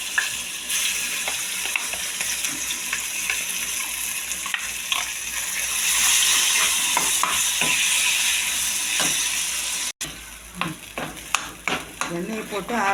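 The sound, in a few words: ground pirandai thuvaiyal stirred in oil in a pan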